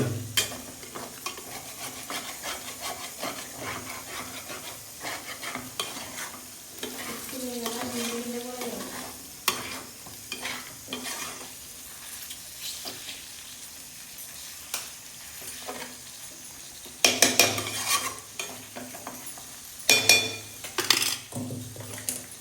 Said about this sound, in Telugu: ఇంకొక వన్ మినిట్ పచ్చడి కలుపుతుంది పంచమిరపకాయ పచ్చడి